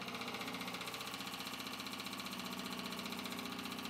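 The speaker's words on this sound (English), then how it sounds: "So what I'm going to do is just test the current draw on that pump." An electric fuel pump runs steadily in a surge tank setup with the tank under pressure. It makes a faint, constant mechanical hum and whine with a fine regular pulsing and no break for the whole stretch.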